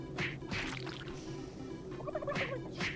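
Turkey gobbling in the video game Doom 3 BFG: several bursts of rapid, warbling gobbles, loud and close, with a pause in the middle before more gobbles near the end.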